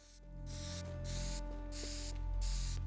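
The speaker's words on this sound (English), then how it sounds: "Give me my spray can back." A spray can in the video game Teardown hisses in four or five short repeated bursts, a close, loud broadband spray over a steady low mechanical hum.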